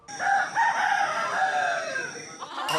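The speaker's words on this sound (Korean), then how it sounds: "크으, 닭들이 알람 대신 깨워준다." Chickens in Bali cluck and a rooster crows loudly and close by, several overlapping calls carrying on continuously over a faint background.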